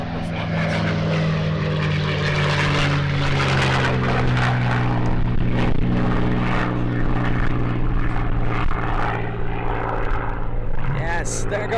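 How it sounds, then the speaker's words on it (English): A propeller airplane drones steadily and loudly as it takes off at an air show, with a commentator talking over the continuous engine hum. "there goes Vicky Benson giving us a farewell takeoff"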